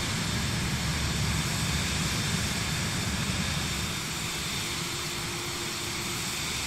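A private jet climbs out at night in Microsoft Flight Simulator 2020, giving a constant broadband engine roar and hiss that stays even and steady throughout, with no talk.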